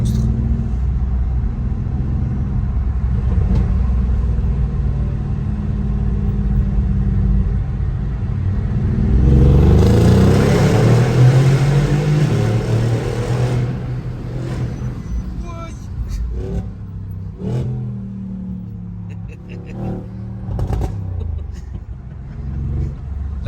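A powerful car roars as it accelerates, its deep engine rumble building into a loud, rising surge midway before easing off, with people talking inside the cabin throughout.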